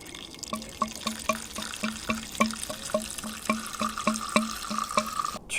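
Petrol poured slowly through a filter into the fuel tank of a Coleman camping stove, giving a close, steady trickle with a regular series of liquid drips and gurgles.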